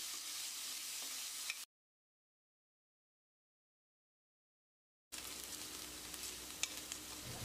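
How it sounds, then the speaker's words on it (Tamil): Finely chopped large onions sauté in a pan for a Tamil dhaba-style paneer capsicum gravy, giving a steady close sizzle with stirring, broken by a few seconds of dead silence before the frying resumes. "ரெண்டு பெரிய வெங்காயம் ரொம்ப பொடியாக நறுக்கியிருக்க, இதை சேர்த்து கண்ணாடி பதத்துக்கு வதக்கிடலாம்."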